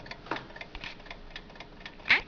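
A 1918 Waterbury wind-up alarm clock ticks steadily and faintly at close range. A sharper click sounds near the end, and no talking is heard over it.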